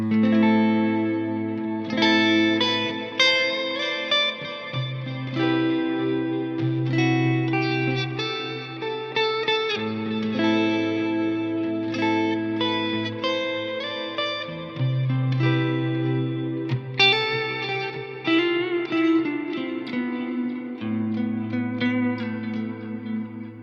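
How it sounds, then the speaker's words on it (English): Sustained electric guitar chords smeared into a dense ambient wash by two stacked delay pedals' overlapping repeats and reverb, tones swelling and blending continuously. "to have 2 delay pedals fighting each other and create that wash"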